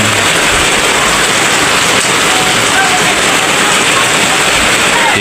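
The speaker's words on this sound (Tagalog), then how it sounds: "Grabe po ang ulan, mga idol. Lakas po ng ulan." Loud, heavy rain pours down on a construction site in a dense continuous roar, close and unbroken, with a faint voice barely audible beneath it.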